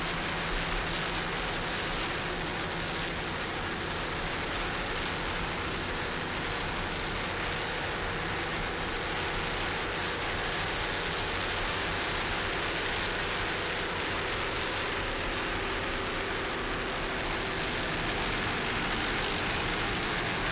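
Offshore powerboat racing engines roar at a race start off the beach at Ocean City, Maryland, a steady, dense, loud drone with a high whine that holds unbroken throughout, with no voices.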